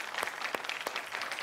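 A studio audience claps to welcome guests at a televised Hindi political debate, a steady wash of applause with a few sharper individual claps standing out, fairly quiet and without talk.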